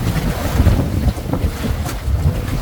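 As a typhoon approaches, big sea waves and strong wind pound a boat, producing a continuous loud roar with heavy wind buffeting the microphone.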